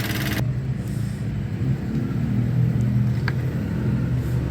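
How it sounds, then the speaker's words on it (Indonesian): A Honda Vario Techno 110 motorcycle engine idles with a worn, rattling clatter, a steady loud low rumble running throughout with faint ticking on top and a brief sharper noise at the very start. "kata konsumennya dengan suara ngeletrek nih, seperti ini suaranya nih. Suaranya parah bener ya."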